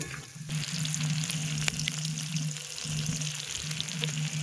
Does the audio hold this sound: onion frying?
yes